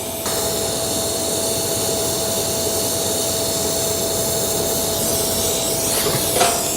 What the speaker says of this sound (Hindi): अब ये दूसरा सेक्शन का पाइप वेल्ड करेंगे।